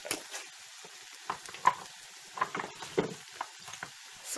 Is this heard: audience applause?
no